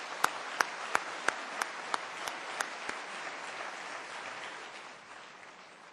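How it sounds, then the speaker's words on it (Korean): Applause at a church festival welcoming an evangelist, opening with a series of distinct, evenly spaced claps that swell into a steady crowd ovation before tapering off. "우리 전도사님 박수로 맞이하겠습니다"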